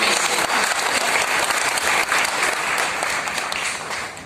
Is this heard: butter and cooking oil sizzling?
no